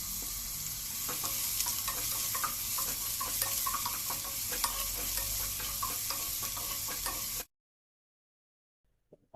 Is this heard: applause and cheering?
no